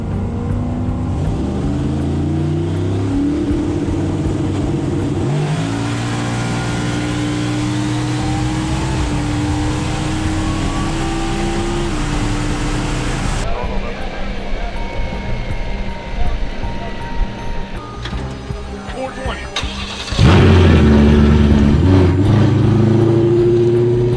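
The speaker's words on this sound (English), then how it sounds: "Right after the trans brake is released, let's just give it all the boost." Turbocharged drag car launching off the line on a two-step and trans brake, running high boost in first gear; a loud, continuous engine roar with shifting revving tones that surges even louder near the end, with no talking.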